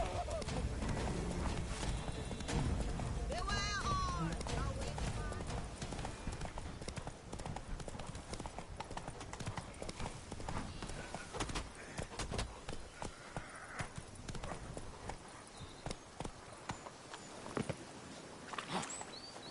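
Roach, Geralt's horse in The Witcher 3, gallops with rapid, continuous clip-clopping hooves, loud and close, under game ambience. A brief whinny comes early, and a faint voice is heard near the start.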